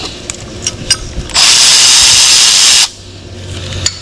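A power tool spins off 10mm bolts during a turbo replacement on a 2018-2022 Honda Accord 1.5, one loud steady whirring burst of about a second and a half set between quieter clicks and clatter.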